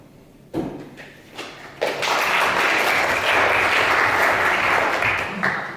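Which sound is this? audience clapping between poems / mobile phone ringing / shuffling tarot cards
audience clapping between poems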